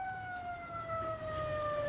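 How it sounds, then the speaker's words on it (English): An old 1960s-style police siren sound effect, a steady wailing tone with harmonics that drifts slowly downward in pitch, heard alone and fairly loud throughout the two seconds. "that's an old 60s sounding siren from Adam 12 or something"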